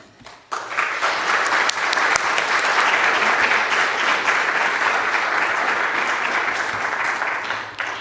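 A large audience bursts into sustained, even applause welcoming Dr. Hill to the stage at an event on murdered and missing Indigenous women, the clapping starting abruptly and holding loud and steady throughout.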